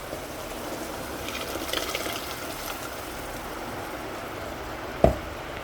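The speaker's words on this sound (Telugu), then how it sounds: "ఇప్పుడు ఇందులో మనము వాటర్ యాడ్ చేసుకున్నామండి" A soft, steady wash of running water fills a pot, ending with a single sharp clink near the end.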